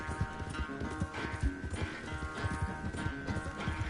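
Horse hooves clip-clop steadily in Red Dead Redemption 2, a continuous close rhythm of hoofbeats with no talking.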